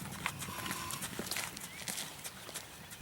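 Hoofbeats of a white gaited Arab horse in a canter, a quick uneven clip-clop pattern at moderate distance, repeating steadily across outdoor background noise.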